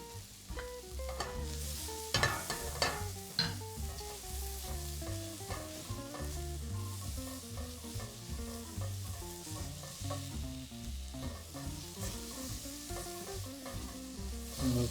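Two cloves of garlic fry in a pan for beer-braised pork belly, sizzling steadily with occasional stirring scrapes and clatters, close but fairly quiet, with no voices.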